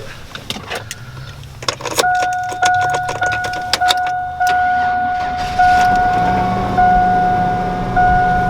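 A pickup truck with an extended cab starts and runs, a steady engine drone building under a long high whine, with clunks and rattles early on; the engine is said to knock.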